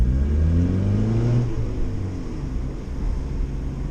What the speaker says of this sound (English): Hard to say if that's the exhaust leak under the car or coming from the engine bay.